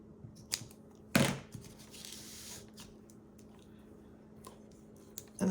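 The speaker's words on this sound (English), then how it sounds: "cut the tip off here" Scissors snip off the tip of a paint cone with one sharp, close cut, followed by faint rustling and squishing handling sounds.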